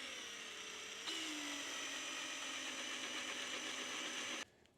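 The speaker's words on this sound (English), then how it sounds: "We're going to set in here with a drill bit." A drill bit bores into the steel tubing of a Yamaha Blaster ATV frame, a close, high whine that steps up in pitch after a second, holds steady, then stops sharply.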